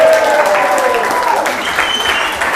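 A live show audience cheers and applauds in a dense, loud burst of clapping and crowd noise that fades slightly over a couple of seconds, with voices mixed in.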